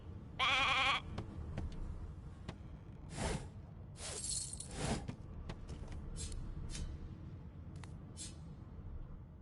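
A sheep in Divinity: Original Sin 2 bleats once, loud and close, followed by several sharp clattering and crunching sounds at irregular intervals.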